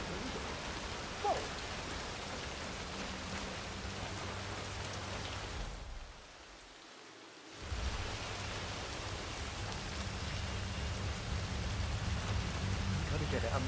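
Steady rain pours over a city in Hitman 3 as a dense, even hiss that drops out for about a second midway, then resumes at full strength.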